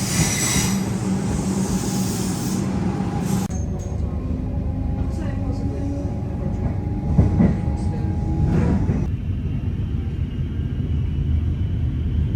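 Suburban train ride in Melbourne from Flinders Street toward Brighton Beach: a steady close rumble of wheels and carriage, brief rail squeals and clacks, with some muffled voices in the carriage.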